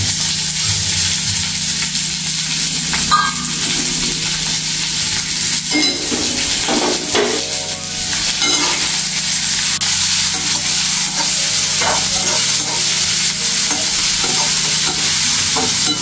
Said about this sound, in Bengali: পেঁয়াজগুলো সামান্য একটু ভেজে দেবো, খুব বেশিও ভাজবো না।